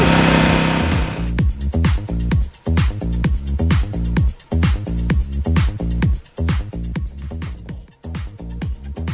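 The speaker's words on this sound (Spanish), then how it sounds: "Cuando el motor haya calentado, haya adquirido temperatura de trabajo, llevamos el motor a máximas revoluciones." Small gasoline engine revved to maximum revolutions after warming to working temperature, a steady loud high-pitched whine with rapid regular pulsing, close by and alone.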